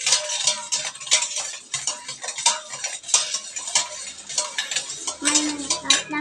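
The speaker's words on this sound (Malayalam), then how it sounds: "അപ്പൊ നമുക്ക് ഇളക്കാം. ഞാനും ഇളക്കട്ടെ." A spoon stirs Tang orange drink mix in a glass, giving rapid, irregular metallic clinks and scrapes that continue throughout at close range, with no talking.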